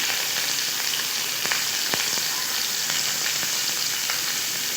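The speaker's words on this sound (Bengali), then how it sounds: "পেঁয়াজগুলোকে আমি খুব ভালো করে ভেজে নেব।" Finely chopped onions fry steadily in hot oil, a loud, dense sizzle with a few faint stirring clicks, heard alone without any voices.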